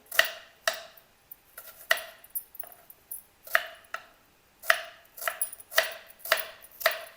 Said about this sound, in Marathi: कांदे कापून घेते मी पहिला. आता कांदे लांब लांब कापायचे.